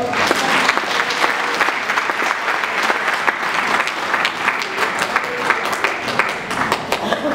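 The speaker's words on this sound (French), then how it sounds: "Est-ce qu'on peut acclamer le Seigneur?" A church congregation applauds and cheers in acclaim of the Lord, a dense, loud, sustained wave of clapping with crowd voices mixed in, steady throughout.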